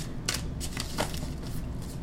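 Tarot cards are shuffled by hand during a love reading, with repeated soft riffling bursts and papery flutters close by in a quiet room and no speech.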